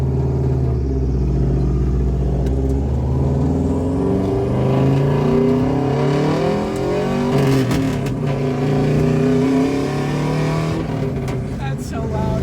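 Bugeye Subaru WRX rally car with a bellmouth catless downpipe, loud rattly engine revving and pulling from inside the cabin, a steady harsh drone with surges, people talking over it.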